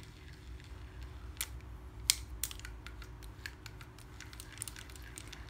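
Mechanical clicking and ratcheting from a used Japanese Shimano fishing reel being cranked and then reversed, with a few sharper clicks standing out from a low, steady mechanical patter, close and fairly quiet, no talking.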